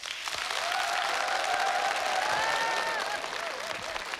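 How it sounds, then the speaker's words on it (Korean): Audience applause at a televised Korean singing concert, a steady dense wash of clapping throughout, with a faint sustained singing voice or tone riding above it. "많이 박수 쳐주시고 호응해 주시면 더 열심히 잘 부르겠습니다"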